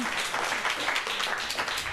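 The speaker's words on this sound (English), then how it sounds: "Hold the applause." An audience at an Emeryville city council study session claps steadily, a dense, even patter of many hands that carries on without a break at moderate loudness.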